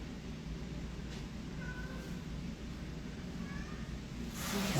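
Cats meow several times inside an animal shelter, faint short calls scattered over a steady low background hum, with no talk.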